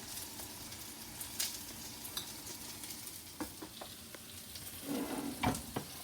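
Eggplant, yellow squash and okra bubble and sizzle together in a home deep fryer, a soft continuous crackle with occasional scraping stirs and light clinks from a utensil, fairly quiet and close.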